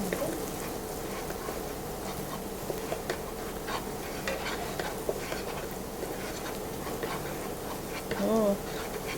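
Butter and garlic frying in a pan, a soft continuous sizzle with faint stirring and scraping, fairly quiet in a home kitchen.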